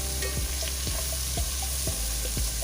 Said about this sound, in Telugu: బాగా ఉల్లిపాయలు బాగా వేగించుకోవాలి.